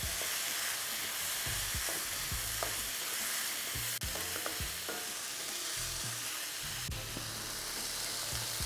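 Beef fried rice stir-frying in a hot pan with pepper flakes, bouillon and seasonings, a steady loud sizzle broken by repeated scraping strokes of a spatula, close and without talk.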